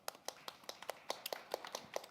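Audience applause following a forum lecture on a rural basic income social experiment, heard as a short burst of scattered, uneven claps from a modest crowd in a hall.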